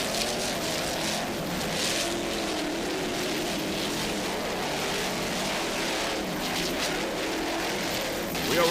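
Offshore racing powerboat engines, including a 46-foot Cigarette with two 1,000-horsepower inboards, roaring steadily at a distance, a continuous broad rumble mixed with rushing water and wind, with no voices.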